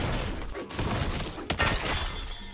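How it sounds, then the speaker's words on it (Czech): An axe breaks in the Lego Fortnite video game, heard as a dense crunchy shatter with scattered clattering debris and a sharp burst partway through, loud and close with no talk over it. "Rozbila se mi sekera."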